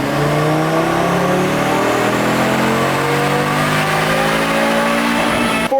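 A 2024 Audi RS3 running a JB4 map 4 tune (5 PSI added boost) on a dyno roars through a sustained full-throttle pull, its loud engine note climbing steadily in pitch for several seconds and then cutting off abruptly.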